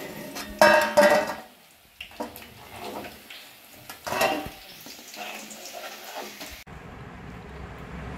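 Fried chicken 65 is served onto a plate with intermittent scraping and clinking of a utensil against the dish. The irregular bursts of metal-on-plate contact are separated by quieter gaps, and there is no clear talk.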